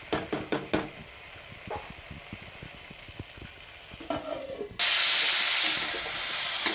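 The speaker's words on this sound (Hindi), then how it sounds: "आप देख सकते हैं बहुत अच्छी तरह से फ्राई हो रहा है ये" Desi chicken fries in its own fat over a medium flame. A few clicks and knocks of a utensil come first, then a loud, steady sizzling hiss surges up close.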